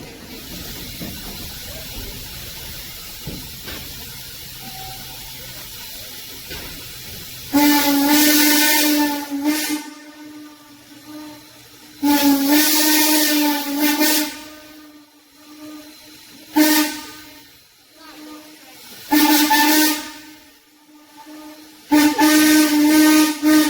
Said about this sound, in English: you'll hear that legendary ghost whistle answer us today